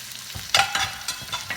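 Garlic, ginger and onion sautéing in a hot pan, a steady close sizzle broken by a few louder scraping stirs of the spatula, with no talking.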